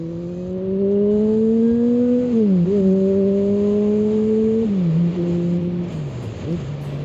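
Motorbike engine heard while riding, a steady loud drone that rises and falls in pitch as the rider shifts and changes speed, with wind rush underneath and no talking.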